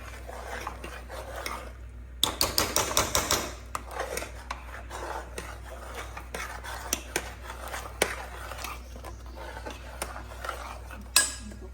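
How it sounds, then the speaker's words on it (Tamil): Sambar ingredients and vegetables are stirred together in a metal pressure cooker pot. A quick burst of rapid clinks is followed by scattered knocks and scraping, heard up close with no voices. "நல்லா மிக்ஸ் பண்ணிக்கலாம்"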